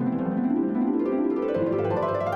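A cartoon frog croaks at the start of an animated marsh fable about two frogs, one long, loud, close croak that swells and shifts in pitch, heard alone.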